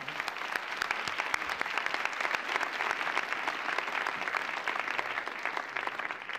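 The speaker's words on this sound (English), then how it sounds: "I think we should give the panel a big round of applause." An audience at a panel discussion on Islam and Muslims in America applauds, with dense, steady clapping that holds at an even level throughout, heard from a moderate distance.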